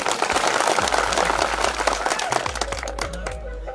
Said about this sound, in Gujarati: બધા માટે આપણે એકવાર જોરદાર તાળીઓ પાડી લઈએ